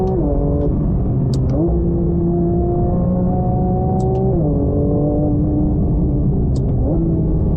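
A Porsche GT3 RS flat-six revving hard toward its 9,000 RPM redline, a loud continuous wail heard from inside the car, the pitch climbing and dropping sharply with several quick gear shifts and no talking.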